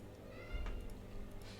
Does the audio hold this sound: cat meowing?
yes